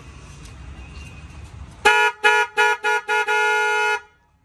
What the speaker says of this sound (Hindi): तो कुछ इस टाइप का यहाँ पे हमारा हॉर्न का रिस्पॉन्स रहने वाला है।